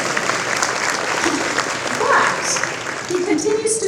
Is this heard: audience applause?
yes